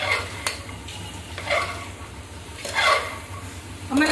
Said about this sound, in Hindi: अब मैं लौकी को ऐसे ही छोड़ दूंगी थोड़ी देर के लिए, मतलब 2 मिनट के लिए ऐसे ही फ्राई होने दूंगी